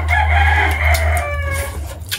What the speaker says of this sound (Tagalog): Tinatawag ng mga manok